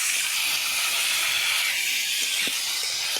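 Broiler chicken frying in oil spiced with garlic, ginger, chili, turmeric and cumin over a clay stove, making a loud, close, continuous sizzling hiss.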